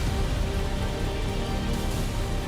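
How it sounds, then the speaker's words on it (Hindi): Heavy, steady rain pours down in Ranikhet, Uttarakhand, a dense continuous hiss of water on surfaces with no pauses and no voices. "उत्तराखंड के रानीखेत में झमाझम बारिश का दौर जारी।"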